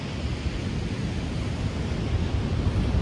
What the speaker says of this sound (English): Still a little bit windy, a little tiny breeze of wind